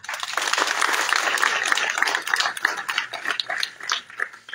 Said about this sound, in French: je demande solennellement à ce qu'on applaudisse très fortement